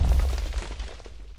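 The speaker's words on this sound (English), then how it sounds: "Pistons push the TNT to the front for a more powerful explosion" Minecraft TNT, pushed forward by pistons, detonates to fire an arrow cannon: a single loud, deep boom at the start that rumbles and fades away over about a second.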